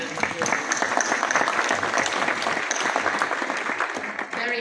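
Audience at a global forum in Shusha breaks into sustained applause, a dense, even patter of many hands with some crowd murmur and voices mixed in beneath it.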